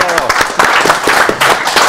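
Audience at a live Bitcoin-versus-gold debate breaking into applause, brief bursts of clapping mixed with talk and voices.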